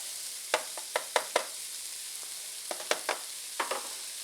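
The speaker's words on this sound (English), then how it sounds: "I fry everything all up together" Onions and celery frying in about two tablespoons of warmed olive oil in a pot, giving a faint steady sizzle broken by sharp crackles and pops scattered through, with no talking.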